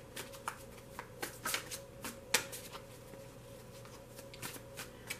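Tarot card deck being shuffled in a quiet room, a run of soft riffling bursts and light card slaps spread across the clip, close and fairly quiet.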